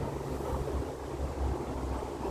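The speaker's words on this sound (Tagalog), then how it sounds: "Sobrang hangin." Strong wind buffets an outdoor spot near a train stop at Compass One, a steady low roar and rumble that stays constant and fairly loud throughout with no voices.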